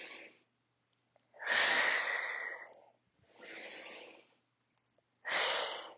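Deep breaths during an arm and core stretching workout: a short exhale, then a long loud inhale, a softer exhale and another strong breath, close and unaccompanied in quiet pauses.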